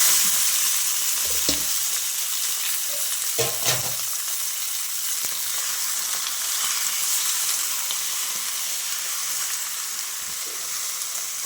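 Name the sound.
frying and stirring goat liver in a pan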